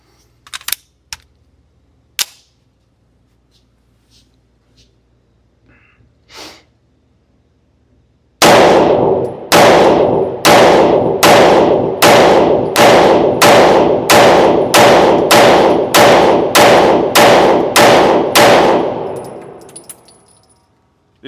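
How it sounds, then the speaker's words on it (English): A CZ Shadow 2 Compact pistol fires fifteen rounds at an outdoor range in a rapid, evenly spaced string of loud, sharp shots, following several seconds of faint clicks and handling noises. "We'll shoot the Shadow 2 Compact first on the far left."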